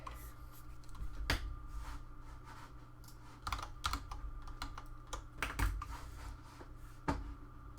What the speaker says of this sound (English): So sometimes you might hear me clicking my keyboard.